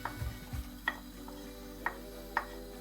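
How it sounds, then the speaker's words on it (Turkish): Chopped onion hits hot oil in a pan as lentil soup is started. A few short stirring clatters and light taps sound over a faint, steady sizzle, close and fairly quiet. "Ardından çok beklemeden soğanımızı atıyoruz"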